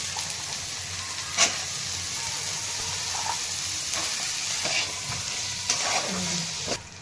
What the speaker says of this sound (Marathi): छान परतून घ्यायचे हरभरे तेलामध्ये